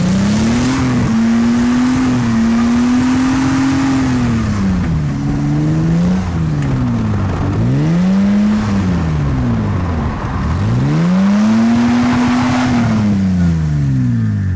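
A Lamborghini replica's engine revs hard on an ice track, rising and falling in repeated loud, sweeping pitch climbs and drops, close and continuous for the whole stretch with no talking.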